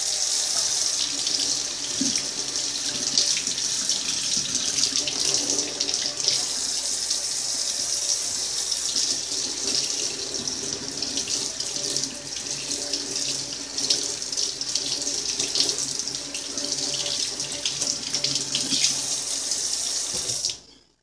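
Tap water runs steadily into a sink while a toy pony is washed, a constant close splashing stream lasting about twenty seconds before it stops abruptly.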